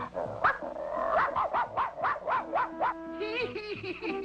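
A cartoon dog barks in a quick run of about eight close, loud yips, then a short whining whimper.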